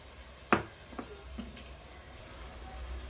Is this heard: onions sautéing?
yes